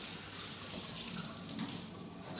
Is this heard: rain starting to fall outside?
no